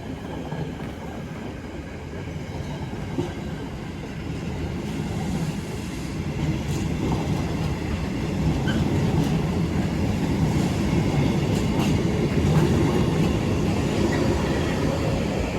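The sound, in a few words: tram passing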